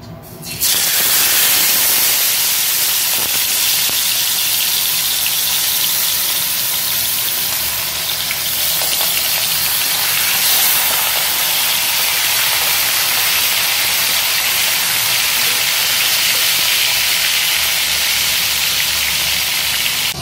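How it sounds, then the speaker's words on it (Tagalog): Fish frying in hot oil, a loud, steady, dense sizzle and crackle that runs unbroken for about twenty seconds, close by with no talking. "Ngayon guys, iprito na natin yung isda."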